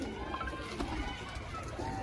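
Pigeons coo softly in a loft where pairs are being released, a low steady murmur of calls under faint background noise, with no distinct voices.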